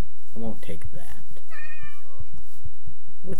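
A Minecraft cat gives a short meow with a rising-falling pitch, clear and near, in a modded Direwolf20 pack world, with a voice talking before and after it.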